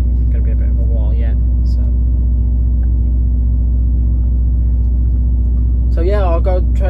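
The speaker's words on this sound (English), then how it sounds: "Sorry about the drumming away you can hear, but that's obviously the fridge keeping the milk cold." A truck-mounted refrigeration unit on a milk delivery lorry drums steadily at close range, a constant low mechanical rumble throughout, with someone speaking briefly over it at the start and end.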